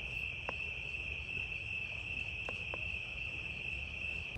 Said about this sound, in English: Insects at night are very loud, the loudest I've ever heard.